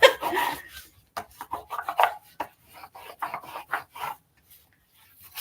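A bone folder burnishes paper in a series of short, dry rubbing strokes with irregular pauses, close and moderately quiet, with no voices.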